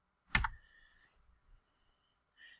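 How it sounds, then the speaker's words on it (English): A computer mouse click while browsing a web store, one sharp near click followed by faint scattered ticks and a soft tap at the end, quiet room. "I'm just clicking Google Chrome."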